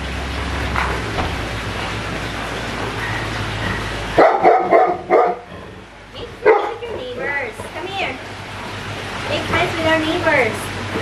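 A neighbor's small Chihuahua barks in a burst of sharp, yappy barks partway through, near enough to stand out, with a person speaking to dogs before and after.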